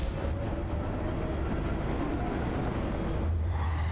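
A train rumbles along in Telltale's Batman video game, giving a continuous loud rolling roar with faint rhythmic rail clatter that stays steady throughout, with no voices.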